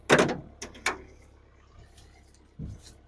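A farm truck cab door unlatches and swings open with a sharp clunk and a couple of metallic knocks, followed by quieter movement and a last dull thud.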